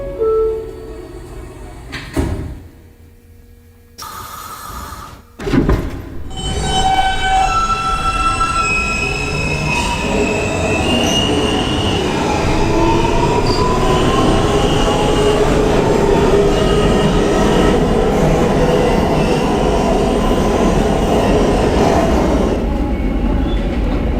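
A New York subway F local train bound for Jamaica-179th Street, loud and close: brief quiet gaps and thumps at the start, then a sustained roar of running wheels with rising squeals and rhythmic rail clatter.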